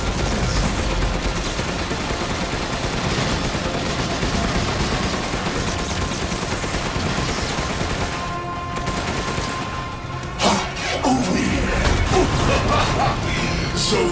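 Sustained rapid gunfire from a boss fight in Resident Evil Village, a dense loud rattle of shots under a heavy rumbling background that drops briefly before bursting back in.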